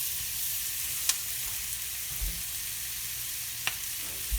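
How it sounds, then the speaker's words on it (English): Chanterelle mushrooms fry in butter in a pan over medium-high heat, giving a steady close crackling sizzle with a couple of sharp pops and occasional soft stirring bumps, no voices. "So you want to get a nice sizzle going."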